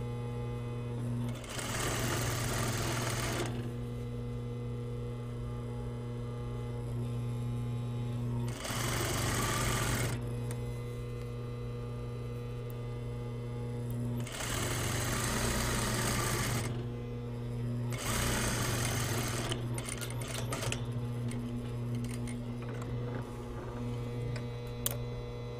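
A sewing machine stitches a lined jacket vent in four loud, steady runs of several seconds each, separated by pauses in which a constant electrical hum carries on.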